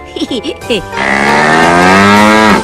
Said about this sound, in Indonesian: Nah, sapi yang baik, ayo makan yang banyak ya